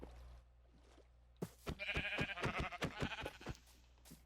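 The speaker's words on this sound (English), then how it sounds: "Oh, there's some sheep though." Sheep bleat several times in quick succession in the Minecraft video game, a loud cluster of short overlapping bleats after a quiet start, with no talking over them.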